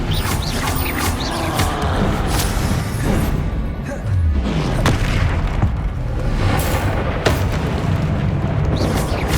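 Loud, dense spell explosions from the Confringo fire curse in Hogwarts Legacy, with repeated booming blasts and crashing impacts layered over continuous combat noise.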